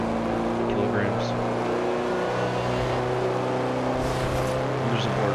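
A large, heavy armored jeep in the Forza Horizon 2 racing game drives with a steady, droning engine rumble and occasional revs, while someone talks over it.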